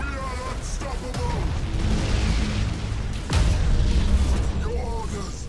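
Starship broadside fire and explosions in the video game Battlefleet Gothic Armada 2, a continuous low rumble of booms and bursts with one heavier impact midway, loud and layered over game ambience.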